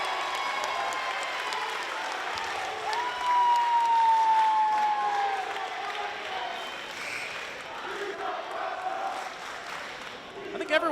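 Student section crowd at a high school basketball game between Milford and Foxboro, a broad, sustained roar of chanting and cheering filling the gym, swelling louder midway and staying steady under the noise.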